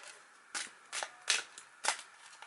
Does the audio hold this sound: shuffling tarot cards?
yes